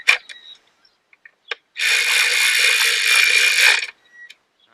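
Ratchet tightening a plastic coil pack cover on a Rover 25 1.4 K-series engine: a few sharp clicks, then a dense, loud burst of rapid ratcheting for about two seconds, a brief click afterward, no voices.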